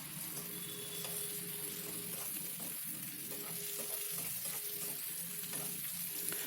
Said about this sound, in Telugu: వంకాయలు వేసుకున్నాక ఒకసారి కలపాలండి.